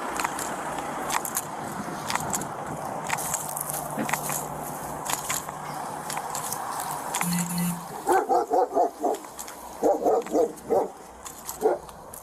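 A police canine barks in a run of loud, sharp, close barks near the end, after a stretch of steady traffic and engine noise with a low hum.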